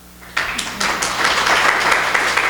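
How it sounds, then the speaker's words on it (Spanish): Audience applause bursts out at a book presentation on racism in Latin American contexts, starting abruptly after a quiet moment and swelling into steady, dense clapping from a room of listeners. "pues un aplauso, ¿no?"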